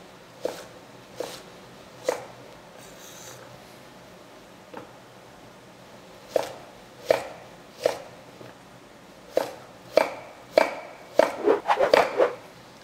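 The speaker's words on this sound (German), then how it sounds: "den Sellerie erstmal hier halbieren, Scheiben schneiden, dann in Streifen oder Balken in dem Fall und dann würfeln." A knife chops and dices celery on a cutting board, with sharp separate strikes that start slow and sparse and then speed into a quick flurry of cuts at the end.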